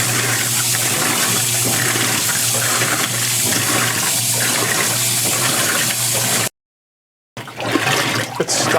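A high-efficiency washing machine on its auto delicates cycle fills with water in a loud, steady gush with rhythmic surges. It cuts out abruptly to silence for a moment, then water sounds return more unevenly.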